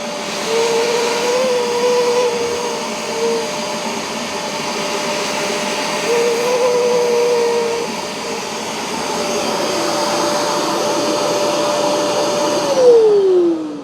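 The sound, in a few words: Bissell Pro Heat portable carpet cleaner running with suction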